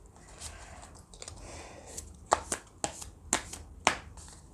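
Tarot cards shuffled by hand during a reading, with soft rustling followed by several sharp, close riffle snaps and slaps at irregular intervals, with no voice over them.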